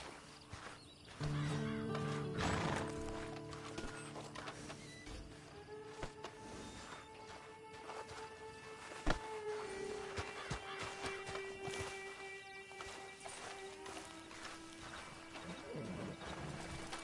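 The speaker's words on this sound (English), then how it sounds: "Then you better get on this horse." A horse in Red Dead Redemption 2 snorts and neighs, then hooves clop and footsteps shuffle at close range, with scattered knocks and a quiet game ambience, with no talk.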